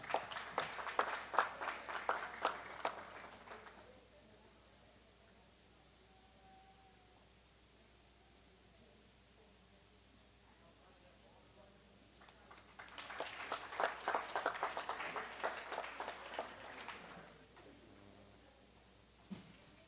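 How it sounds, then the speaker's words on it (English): Spectators at a local livestock show give two separate rounds of fairly distant clapping, each lasting a few seconds, with a quiet gap between them. "let's go ahead and give them all one more round of applause"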